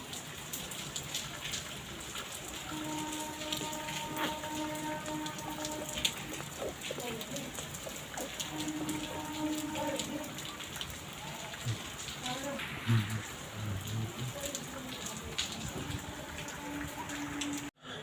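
Steady, hissing patter of rain on a flooded street, continuous and fairly close, with splashing water underneath.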